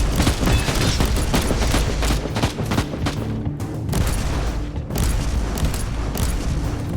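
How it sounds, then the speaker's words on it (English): Sustained automatic weapon fire in Warhammer 40,000: Inquisitor – Martyr: loud, dense rapid bursts of shots with thuds and mechanical clatter, one brief lull, then the firing resumes at full intensity. "Jump into the middle of them there and open up with some auto fire."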